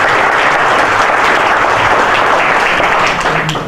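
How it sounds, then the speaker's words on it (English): A room full of people at a gathering on weight loss and diabetes reversal breaks into loud, sustained applause, dense clapping at an even level that begins to thin and fade near the end. "We should give another big applause to Mr."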